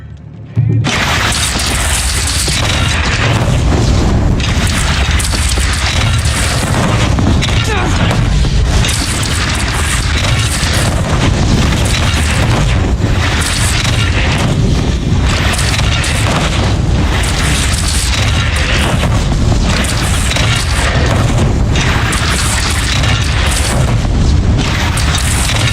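Cannon fire and booming blasts in the video game Horizon Zero Dawn, a dense, loud battle din that runs continuously with repeated heavy explosions and chaotic noise, with voices mixed in.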